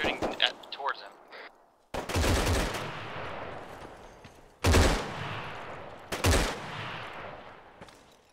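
Loud bursts of automatic gunfire in the military shooter ArmA 3 during a Navy SEAL co-op mission, three heavy volleys each trailing into a long echoing decay, preceded by a short stretch of quiet voice chatter.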